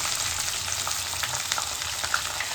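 Onion and garlic frying in cooked dry masala for a restaurant-style chicken curry, producing a dense, continuous sizzle with scattered crackles and stirring.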